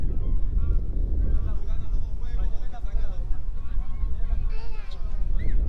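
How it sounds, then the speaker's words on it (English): Loud geese honk repeatedly as they fly overhead above a baseball field, over a steady wind-like rumble, their calls overlapping and drifting across. "Some quite loud geese flying over the field at the moment."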